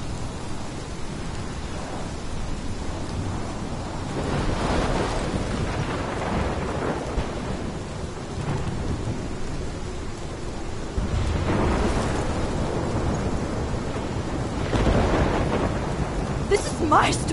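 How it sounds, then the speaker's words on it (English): Heavy thunderstorm in the Life Is Strange video game: steady pouring rain with deep rolling thunder rumbles that swell several times, loud and continuous throughout. "This is my storm."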